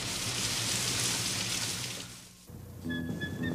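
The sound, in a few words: rain falling indoors inside a store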